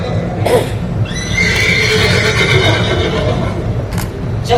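Horses neigh loudly in a Hindi stage play about a chariot in battle, a long whinny rising over a busy, echoing stage with faint hoof-like thuds before and after.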